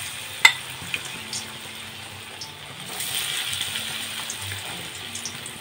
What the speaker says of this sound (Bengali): তেলটা গরম হয়ে গেছে, এবার কাঁচকলাগুলো দিয়ে দেবো।